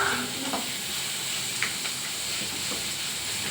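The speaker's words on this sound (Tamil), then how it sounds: "ஆனியனை போட்டு நம்ம வறுத்துட்டு இருக்கோம்" Onions fry in hot oil in a pan, a soft, steady sizzle and hiss with a few faint stirring clicks, quiet and continuous, no talk.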